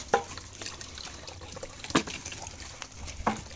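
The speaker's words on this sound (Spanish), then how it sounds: "Aquí le estamos llenando su agüita." Water running and splashing close by as dogs' water is filled at a house, a steady liquid wash with a few sharper splashes or clinks standing out.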